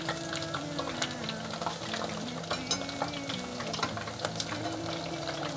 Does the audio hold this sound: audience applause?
no